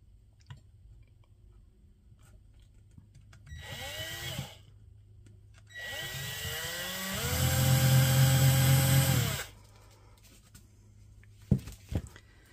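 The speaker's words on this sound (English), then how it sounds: "So I'm going to put that into my drill motor." A small electric drill motor runs in two short bursts while drilling a tiny hole, with whining motor tones that ramp up in pitch, the second burst longer and louder, followed by faint clicks.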